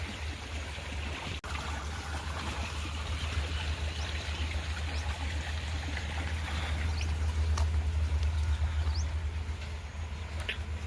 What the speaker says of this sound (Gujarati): અટાણે બસ ખડમાં પાણી હાલે